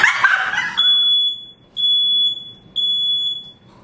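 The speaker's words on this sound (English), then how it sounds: "Did I make the alarm go off?" A smoke alarm shrieks indoors with three piercing high beeps in a steady rhythm, close and loud, following a brief burst of a dog barking at the start.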